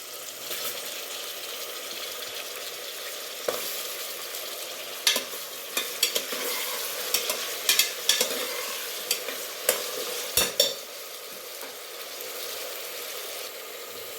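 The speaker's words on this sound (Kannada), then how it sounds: "ಎಣ್ಣೆಯಲ್ಲಿ ಬದನೆಕಾಯಿ ಫ್ರೈ ಆದಷ್ಟು ಬದನೆಕಾಯಿ ಕಲರು ತುಂಬಾ ಚೆನ್ನಾಗಿರುತ್ತೆ" Brinjal and onion fry in oil while being stirred, a constant crackling sizzle broken by repeated sharp spatula clinks and scrapes against the pan, with no voices.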